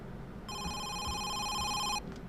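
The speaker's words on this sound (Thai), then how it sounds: "เฮ้ย โทรศัพท์ดัง" A telephone rings in one sustained electronic trill lasting about a second and a half, clear and fairly close against a quiet room background with no talking.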